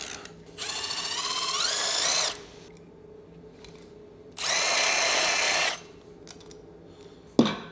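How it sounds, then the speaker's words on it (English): A power tool whirs in two separate bursts, each about two seconds long, as it loosens the cylinder head bolts on a neglected BMW E39 M5 engine. Its pitch rises as each bolt frees, and a sharp clank follows. "Release the bolts in a sequence from 10 to 1."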